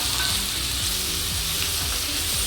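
Pieces of bitter gourd fry in a pan for a dry stir-fry, giving a loud, steady close sizzle with faint stirring scrapes and no voices.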